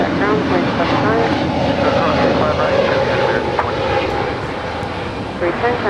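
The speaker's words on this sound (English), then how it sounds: "That is Spirit Wings Flight 310 departing to Fort Lauderdale on an A320 Neo" A Spirit Airlines A320neo jet departs from LAX with a broad, steady engine roar that fades slightly toward the end, and a radio voice speaks over it.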